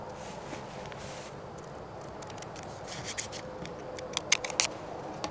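Scissors cutting paper while making a paper Hong Kong Flyer, close rasping snips that start soft and turn into a few sharper, louder cuts near the end, no talking.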